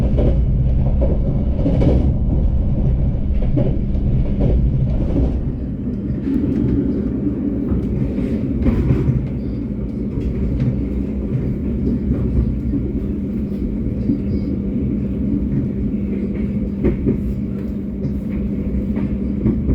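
A Sawunggalih executive passenger train from Jakarta Pasar Senen to Kutoarjo rumbles steadily along the tracks past Cikaum station, a continuous loud roar with faint rhythmic clatter throughout.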